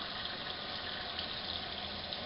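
Cold tap water runs in a steady, even hiss and splash over boiled quail eggs in a sink, a constant stream heard close up with no talking.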